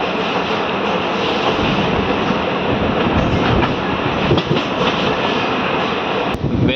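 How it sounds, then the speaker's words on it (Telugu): A Secunderabad–Siddipet DEMU train runs near Duddeda station, heard from on board as a loud, steady rumble with continuous wheel clatter and occasional rattling, with no voices. "మన ట్రైన్ దుద్దేడ రైల్వే స్టేషన్ దగ్గరలో ఉంది"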